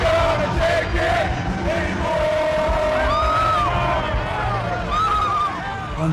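A large crowd at a Donald Trump rally roars and cheers continuously, with shouts and whoops rising over a dense, loud wall of voices and music that holds steady throughout.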